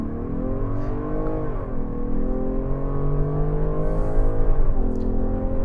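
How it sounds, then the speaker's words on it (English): A 2022 Ford Explorer Limited Hybrid accelerates hard in sport mode, its engine note rising steadily over several seconds as a continuous, fairly loud drone with no talking. "now I'm gonna test the acceleration with the Hybrid Explorer"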